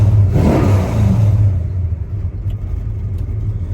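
A 1974 Dodge Dart engine revs loudly and close, a deep rumbling surge that eases back after about a second and a half into a steady idle with a faint rattle.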